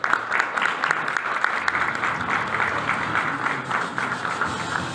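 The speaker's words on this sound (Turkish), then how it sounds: "alkışlarınızla sahneye davet ediyorum efendim" Audience applause at a construction company's project launch ceremony as guests are invited on stage, a full, steady burst of many hands clapping at a fairly loud, even level.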